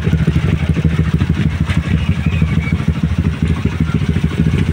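A Kawasaki motorcycle engine runs steadily in a repair shop, a loud close rhythmic clattering idle with a constant beat and no talk.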